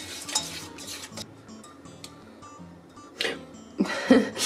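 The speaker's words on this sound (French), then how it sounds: "Maintenant on y va donc avec le fouet pour bien faire briller le chocolat" Whisk stirring vegan chocolate sauce sweetened with agave syrup, quick metallic clinks and scrapes against a bowl in irregular bursts, fairly quiet, with louder clattering toward the end.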